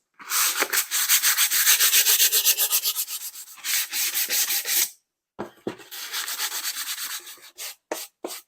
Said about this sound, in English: just gently sand it off